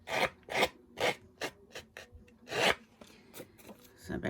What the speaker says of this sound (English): you can just use the blade of a scissor if you don't have a distressing tool